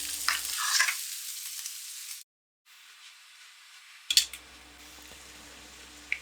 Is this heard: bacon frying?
yes